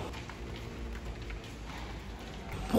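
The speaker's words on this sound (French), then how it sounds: "Il pleut." Steady rain falls outdoors, a soft continuous hiss with scattered low thuds, moderately loud throughout, no voices, ending in a brief louder rustle.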